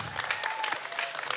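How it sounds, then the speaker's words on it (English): Audience at a high school spoken word poetry event breaks into brief, steady applause for a poet, close and moderately loud. "Applaud the poet,"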